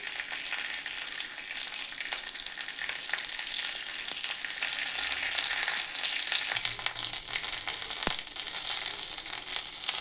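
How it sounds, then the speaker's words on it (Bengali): Whole mustard seeds and dry curry leaves are tempered in hot mustard oil, making a continuous, dense, crackling sizzle that swells slightly midway, with one sharp tap near the end. "তেলটা গরমও হয়ে গেছে ফোড়নে দিচ্ছে একটু গোটা সর্ষে আর দিচ্ছি কারি পাতা শুকনো"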